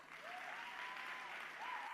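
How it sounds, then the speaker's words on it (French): Audience applause at an evangelistic gathering in Monrovia, Liberia, a soft, continuous patter of many hands heard from a distance, with faint voices and a whistle-like tone drifting over it. "Applaudissez-les"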